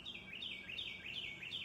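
Wild songbirds such as robins, cardinals, blue jays and mockingbirds chirp in a repeating series of high, slurred calls, moderately near over a soft outdoor background.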